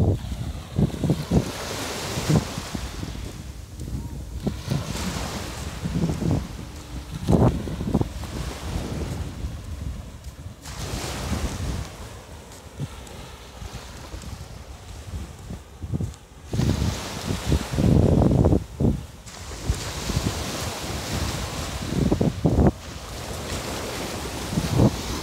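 Wind and surf at Vung Tau's back beach on a calm morning, rolling waves breaking and washing in repeatedly, with gusts buffeting the microphone in loud bursts over a constant roar.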